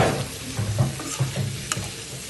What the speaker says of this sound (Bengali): এবার একটু উল্টা পাল্টা করে ভেজে নিলাম, হালকা ভেজে নিব